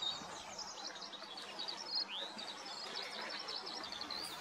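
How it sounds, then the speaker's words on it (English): A tiny goldcrest sings high, thin, rapid chirps from a nearby tree in a quiet Suffolk countryside setting, the calls coming in short bursts over soft background hiss. "in the next tree is a gold crest. It's the UK's tiniest bird"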